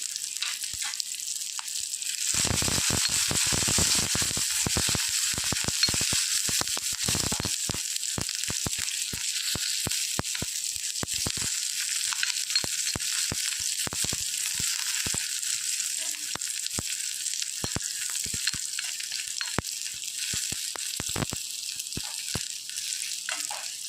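Small shallots and cumin seeds fry in hot oil for a tempering, making a continuous close crackling sizzle with dense sharp pops throughout and no talking.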